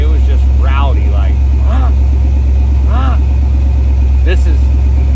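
Junkyard big block Chevy V8 running in a mega truck, a loud, steady engine drone with a pulsing low rumble that carries beneath continuous talking.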